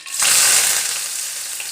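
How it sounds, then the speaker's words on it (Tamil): Onions and curry leaves dropped into hot oil for channa masala, a sudden loud close sizzle that flares up and then settles into a steady frying hiss. "வெங்காயம் கருவேப்பிலை போடுறேன்."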